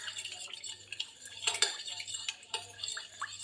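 A spoon stirs avial with turmeric and chilli powder in a pan, faint scraping and clinking strokes repeating irregularly over a low steady hum.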